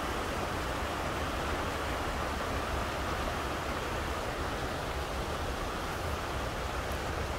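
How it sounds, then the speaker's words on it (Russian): A brook runs near the Kham-Syra waterfall on the Khamsara river, making a constant rushing, hissing flow of water that stays even and close with no voices. "Друзья, смотрите, какой ручеек вот течет."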